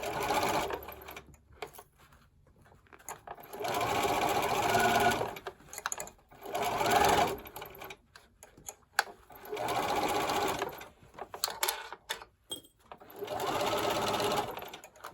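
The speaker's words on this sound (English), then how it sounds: "And then I will continue sewing." A sewing machine stitches a fabric face mask with adjustable ear loops in five loud, steady bursts of running stitches, separated by short quiet pauses.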